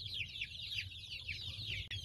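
Chickens on a farm clucking, several birds making overlapping rising and falling calls over a low background rumble, close and continuous.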